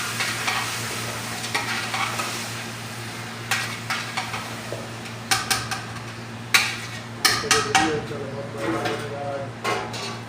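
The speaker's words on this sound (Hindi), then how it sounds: "कुकर के अंदर मिक्स करते हैं।" Metal utensil scraping and clanking against a pressure cooker as paya is stirred, with a steady low hum underneath and irregular sharp knocks.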